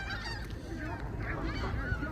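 Large flock of geese and other birds at a lake by Bluffers Park in Toronto in late afternoon, with overlapping honks and calls forming a steady, fairly close chorus throughout.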